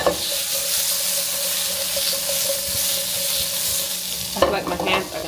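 Garlic cloves sizzle and fry steadily in a hot pan on the stovetop, a continuous close crackling hiss with a brief clatter of stirring near the end.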